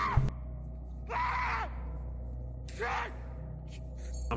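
Two short, wailing screams from a horror video game, each lasting about half a second, rise over a low steady hum with a brief click at the start.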